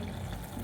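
Hot water is poured into a simmering kofta curry gravy, giving a brief, soft splashing gush that lasts well under a second and stands alone without talk.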